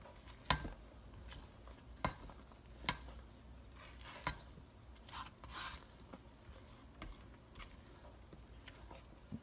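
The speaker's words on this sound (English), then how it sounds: "now we're going to finish mixing in the egg whites. You just want to fold them in gently" Egg whites folded by hand into rum cake batter in a bowl, heard as soft scraping with a few sharp taps of a utensil against the bowl, quiet and close, with no talking.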